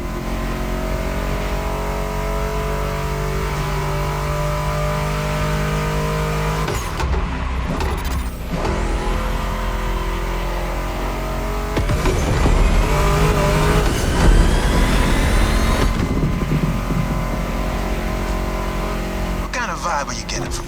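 A Mustang GT muscle car engine in The Crew Motorfest racing game revs and roars loudly and continuously, surging in pitch with gear changes, mixed with music and a talking voice.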